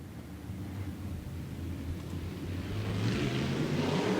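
SportMod race cars at Stuart Raceway, a dirt track, make a distant engine drone under a wash of broadband noise that grows louder over the last second or so as the field comes closer.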